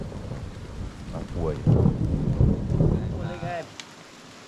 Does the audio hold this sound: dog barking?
no